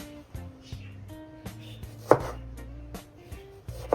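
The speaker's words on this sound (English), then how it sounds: "gonna cut half of my other tomato" A knife cuts a fresh tomato in half on a board for a cucumber, onion and tomato salad, several distinct chopping knocks spaced irregularly, close and moderately loud, with faint kitchen hum between and no talking.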